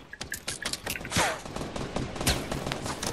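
A minigun fires in the Fortnite battle royale game, a rapid rattle of close, punchy shots in quick bursts that swell near the middle, with other game sounds around it.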